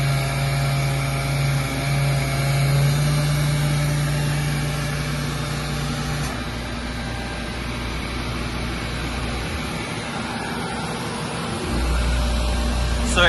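Robotic sanding machine working over wooden boards in a workshop, giving a steady, loud motor drone with a constant hum throughout and a brief shift in tone near the end, with no voices.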